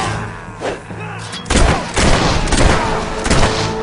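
Gunfire in a war film: a burst of sharp, loud shots and booming impacts repeating at irregular intervals, with brief shouted voices mixed in among the blasts.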